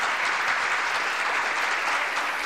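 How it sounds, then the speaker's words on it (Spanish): Dense, steady applause fills an awards gala hall, a continuous wash of many hands clapping at even strength throughout, with no pauses or speech standing out. "El aplauso, por favor."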